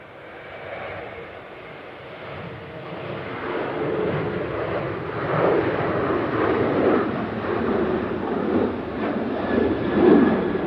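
A KLM airliner rolls for takeoff at a windy Manchester Airport, its engine noise building from a faint rumble to a steadier roar in the distance, with wind buffeting and a voice talking over it.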